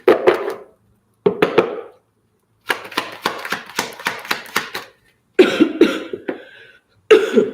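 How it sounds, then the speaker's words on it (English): Bursts of harsh cannabis-smoker's coughing come close to the mic, several fits of rapid coughs separated by short silences. "Excuse my kush cough"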